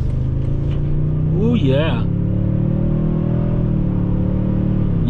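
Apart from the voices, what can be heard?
2022 Toyota Tundra pickup truck accelerating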